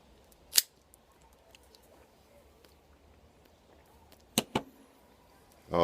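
An E.P. Carrillo Cardinal cigar is cut with a couple of sharp, close snips, one early and a double snip later, against a quiet room.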